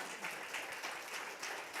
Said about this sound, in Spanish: Jesús, denle un aplauso a Jesús.